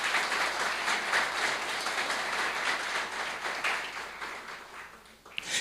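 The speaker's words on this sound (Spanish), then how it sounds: "¿Cuántos le pueden dar un aplauso al Señor por eso?" A church congregation at a Sunday service claps together in a sustained round of applause that holds steady, then drops off and fades near the end.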